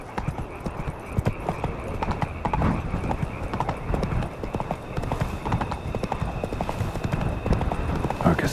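Hooves of the horse Roach clip-clop steadily at close range in The Witcher 3: Blood and Wine, a brisk continuous rhythm over ambient game sound, with a brief whinny-like note.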